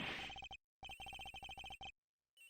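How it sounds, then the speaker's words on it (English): A mobile phone rings in the Ace Attorney video game, in short bursts of rapid repeated electronic tones separated by brief pauses, loud and clear with no talking. "Agent Hicks's phone! It's ringing from somewhere, sir."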